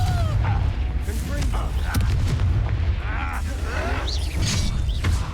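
Confringo fire spell blasts in the Hogwarts Legacy video game, booming explosive impacts and crackling bursts amid dense combat noise, with a voice speaking over the action.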